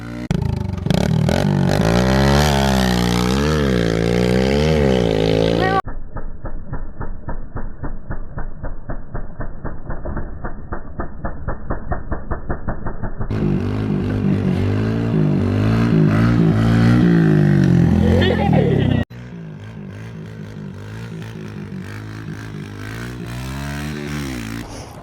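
A Kawasaki KLX110 minibike ridden in a garden revs hard and steadily, its engine note rising and falling through gear changes, with a rapid chattering stretch in the middle, loud and close with no talking.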